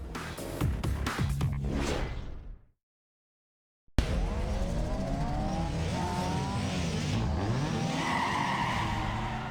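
A Toyota Corolla racing in Need for Speed Underground 2, with engine roar, rising revs and squealing tyres, a brief silent break, then loud sustained engine drone with shifting pitch and skids.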